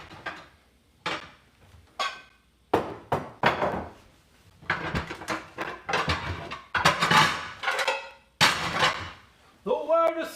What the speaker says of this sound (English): The loudest sound possible is moving baking trays.